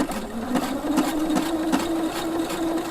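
A Husqvarna Viking sewing machine stitches a button on, giving a steady mechanical hum with a rapid rhythmic needle clatter running continuously at close range, no talking.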